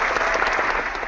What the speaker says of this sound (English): Give me another round of fucking applause on this shit.